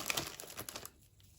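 Crinkle paper filler rustles and crackles as it is handled while a mail package is packed, close and soft, with scattered crinkling for about a second before fading out.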